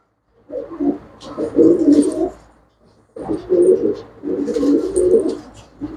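Pigeons coo in two close, rolling bursts separated by a short pause, loud and near with no talk, in a Punjabi pigeon-keeper's loft of pure-bred birds.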